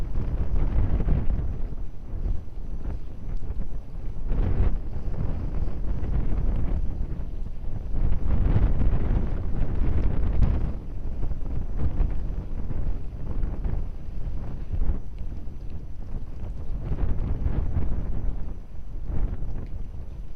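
Strong gusting wind at Lisbon Airport roars continuously across the microphone, a heavy low buffeting rumble that rises and falls in surges for the whole stretch, with no other sounds standing out.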